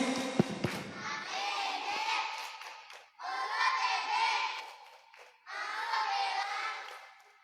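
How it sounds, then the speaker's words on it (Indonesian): Fourth-grade schoolchildren at an Indonesian Islamic primary school perform a patterned thank-you clap. It comes in three separate energetic bursts of group clapping mixed with young voices, each separated by a short pause. "Tepuk terima kasih."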